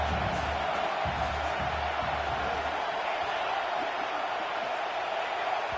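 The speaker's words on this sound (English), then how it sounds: "with this place rocking, the crowd forces a false start" A stadium crowd at a Razorbacks football game roars in a dense, sustained wall of cheering and whooping that stays loud throughout, with no distinct voices.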